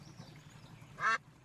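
A person imitating a duck's quack with their voice, one short nasal quack near the end of a quiet moment.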